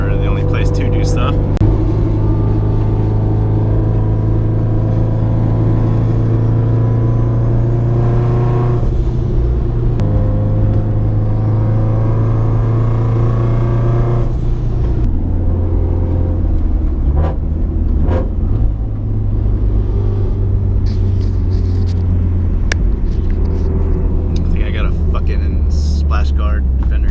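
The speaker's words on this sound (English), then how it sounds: "The car's still warming up, just kind of taking it down to get gas" A BMW X5 engine, still warming up, drones steadily at close range while the SUV is driven to get gas, with shifting tones and brief hissing bursts.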